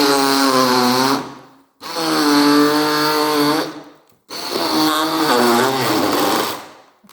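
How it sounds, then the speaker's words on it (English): A handheld blender blends a berry smoothie, whirring loudly in three long bursts separated by brief pauses, its motor pitch wavering as it churns. "I'm using a handheld blender"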